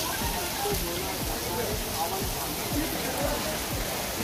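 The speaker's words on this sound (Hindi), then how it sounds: "आपको वीडियो के बैकग्राउंड में भी तेज़ बारिश की सुनाई दे रही होगी आवाज़।" Heavy rain from a rain fountain at Saheliyon ki Bari hisses steadily and densely, a constant wash of falling water with scattered louder drops throughout.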